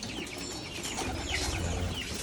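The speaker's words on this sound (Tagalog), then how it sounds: "ang ating mga alagang kalapati" Pigeons coo softly in a low, murmuring rumble, several birds close by, steady throughout with no talking.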